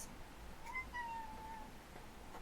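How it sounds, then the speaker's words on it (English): A pet cat gives a single soft, drawn-out meow indoors, fairly faint over a quiet room with no talking. "I'm really interrupted by my cat."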